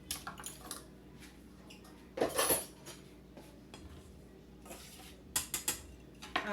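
Banana zucchini bread batter with shredded coconut being mixed in a bowl, quiet intermittent scraping and a few sharper clinks of a utensil against the bowl, close and faint.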